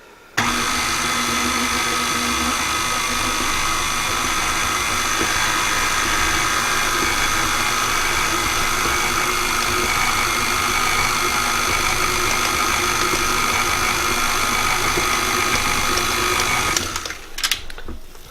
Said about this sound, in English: Stop your mixer and scrape it down.